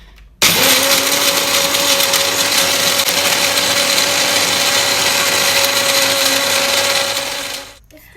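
An old Baby Cool baby food blender mixing energy bar ingredients with a little milk, starting abruptly into a loud, steady motor whir and grinding that holds for several seconds before winding down.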